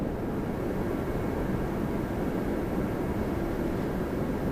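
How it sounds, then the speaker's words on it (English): An Air Canada Airbus A320 arriving at Toronto Pearson, flight 641 from St. John, New Brunswick, gives a broad, steady jet roar that fills the whole stretch without letting up. "Our first arrival we're going to catch is Air Canada."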